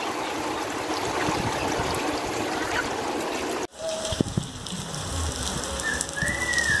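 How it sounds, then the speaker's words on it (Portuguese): Heavy rain falls in a steady dense hiss for several seconds, then cuts abruptly to a quieter, more distant patter with scattered drips and a few thin whistling tones. "Olha lá, os primeiros pingos não, já está chovendo. Muita chuva, ó."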